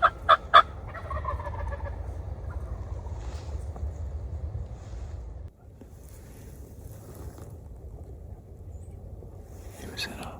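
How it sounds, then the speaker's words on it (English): Wild turkey gobbler in a roost in the Minnesota lowlands, a sharp rattling gobble burst at the start, moderately distant, followed by a low wind rumble and faint rustle, with another faint call near the end. "we set up 100 yards away from this gobbler in the roost"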